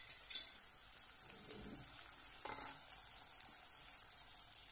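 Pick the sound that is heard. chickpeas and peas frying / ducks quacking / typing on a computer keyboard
chickpeas and peas frying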